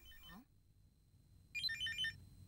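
A telephone rings at a family dinner table with a faint, high warbling electronic ring. Two short bursts are heard, split by a quiet gap.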